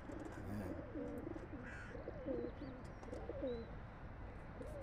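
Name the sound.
pigeons cooing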